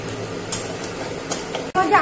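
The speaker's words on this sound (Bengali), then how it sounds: "এবার এর মধ্যে আমি গোটা শুকনো লঙ্কা আর গোটা জিরা দিয়ে দিলাম" Whole dried red chilies and whole cumin sizzle in hot oil with browned sugar, a steady close fry broken by a few soft stirring scrapes and a sharper spattering burst near the end.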